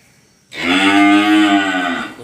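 A Holstein Friesian cow lets out one long, loud, close moo lasting well over a second, rising then tapering off after a brief quiet start.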